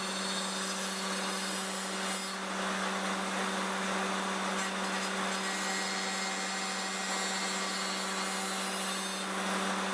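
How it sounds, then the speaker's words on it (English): A Rex-Cut cotton fiber Type 1 wheel grinds a burr off the lead thread of new pipe, producing a steady, loud, continuous abrasive whir with a constant motor hum and no pauses. "demonstrate how we take this burr off the lead thread"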